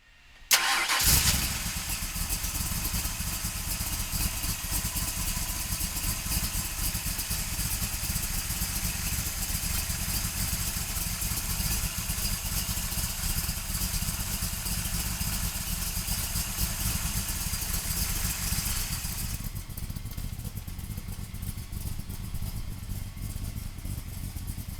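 A 1965 Shelby Cobra Superformance replica with a Ford Racing engine cranks briefly, catches, and settles into a loud, steady idle that carries on for about twenty seconds before easing slightly, heard up close with no talk.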